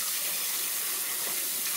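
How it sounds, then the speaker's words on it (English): Running tap water wetting a washcloth at a sink during a face wash, a steady close hiss of flowing water throughout with no talk. "So again, wet your cloth."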